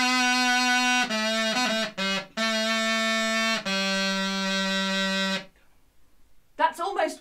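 A crumhorn, the buzzy Tudor reed wind instrument, plays several long sustained nasal notes close up with short breaks between them, then stops; after a pause a voice begins talking.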